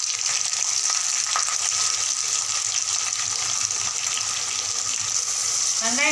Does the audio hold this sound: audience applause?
no